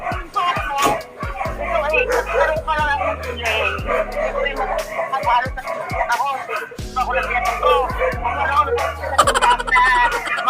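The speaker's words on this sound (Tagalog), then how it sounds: "hindi ko maintindihan kasi mga aso maingay." Several dogs barking and yipping in quick repeated bursts, loud and close, with whimpers between, while people talk underneath.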